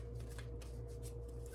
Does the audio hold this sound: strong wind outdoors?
no